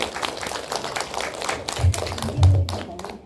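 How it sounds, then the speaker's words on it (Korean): Scattered audience clapping in a small hall before a singer performs, a few irregular claps close by with thumps and some background voices. "박수 부탁드리겠습니다."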